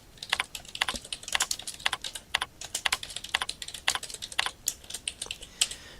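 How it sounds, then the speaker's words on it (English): Rapid, close typing on a computer keyboard, a dense run of crisp key clicks in an uneven rhythm, loud and clear with no talking. "Just type it in, hit enter."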